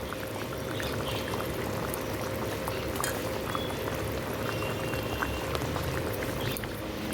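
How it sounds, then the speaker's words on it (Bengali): A curry broth with stuffed potato fritters and spices boils in a pot, making a dense, steady bubbling and popping that stays close and constant throughout. "এবার এটা একটু কিছুক্ষণ ফুটিয়ে নিই"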